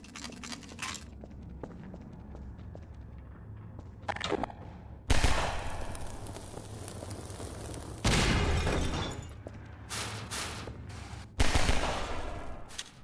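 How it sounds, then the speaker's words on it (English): Bursts of automatic gunfire echo in a hallway firefight in the Half-Life 2 Episode 2 mod Exit 2, with loud sustained volleys separated by quieter stretches and scattered single shots. "Shooting dudes in a hallway."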